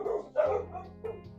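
Pet dogs bark and yip in a quick series of short, fairly faint calls over a steady low background hum, with no one speaking.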